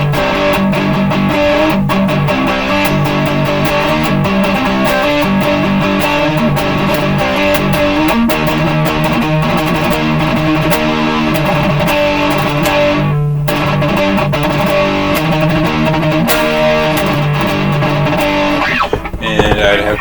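Electric guitar fitted with an EMG Retro Active Hot 70 pickup, played through heavy distortion with no overdrive, rings out in loud sustained chords and riffs that continue throughout.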